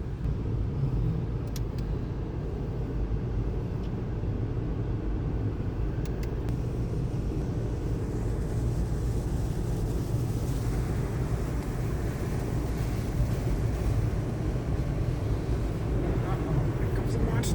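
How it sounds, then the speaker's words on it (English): An automatic car wash runs over a car at a Take 5 car wash in Orem, Utah, heard from inside the vehicle as a steady, loud rumbling wash of water and machinery that continues throughout, with occasional voices. "It's a full car wash"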